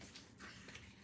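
A dog gives a brief, faint whimper indoors, soft and breathy against a quiet room with no talking.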